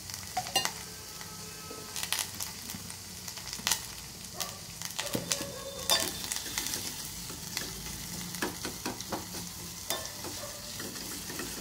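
Onions fry in a pan toward translucency for a raw-banana tamarind curry, with a constant sizzle under frequent spatula scrapes and clinks against the metal, close and busy.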